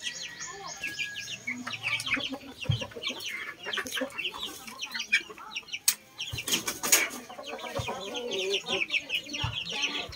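Chickens cluck and squawk repeatedly at close range in a busy coop during feeding, the calls overlapping in an irregular chatter with a brief rustle of wings, while a person talks faintly beneath.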